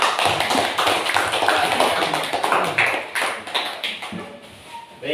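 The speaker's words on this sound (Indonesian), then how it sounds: "Kita kasih aplaus kepada kelompok." A primary school class gives a group a dense round of clapping, many hands tapping steadily throughout, loud and close as the applause fades slightly toward the end.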